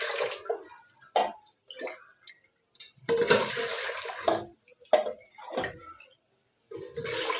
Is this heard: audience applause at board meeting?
no